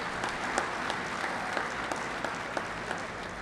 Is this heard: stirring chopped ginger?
no